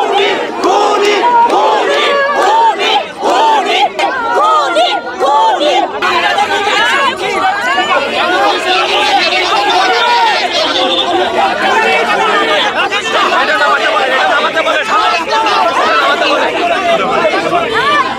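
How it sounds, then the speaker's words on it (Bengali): A large protest crowd of cultural activists, halted by a police barrier during the quota movement, chants slogans in loud, rhythmic unison with shouting and chatter, continuous and close throughout. "তারা খুনি খুনি বলে স্লোগান দিচ্ছে"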